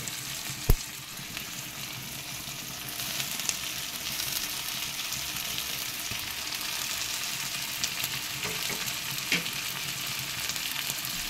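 Bitter gourd slices, fried earlier, frying with onions in a pan for Bengali korola posto, giving a steady close sizzle throughout with an occasional sharp clink of a utensil.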